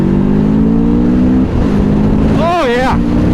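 A Rieju Aventura 500 motorcycle launches hard from a standstill, its close, loud engine drone steady at first and then sweeping up and down in pitch as it accelerates. Heavy wind rush runs underneath.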